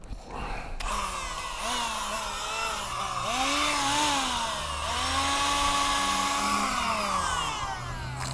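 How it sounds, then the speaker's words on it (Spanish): A cordless electric drill's bare motor, removed and wired up on its own, whirs steadily at high speed with pitch that rises and dips as it spins up and slows, a continuous close-up buzzing whine with no talking. "Este es un motor de un taladro eléctrico, un taladro a batería."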